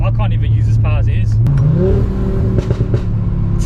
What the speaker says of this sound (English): Downshift bangs.